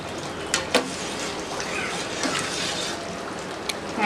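Chicken biryani stirred in a pot, the rice half cooked: a constant wet, crackling simmer with a few sharp scrapes and knocks of the spoon against the pot, and no voices.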